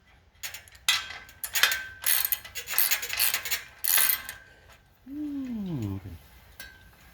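Metal parts of a rack being tightened during assembly, a run of clinking, ratcheting bursts up close, ending in a short squeaky whine.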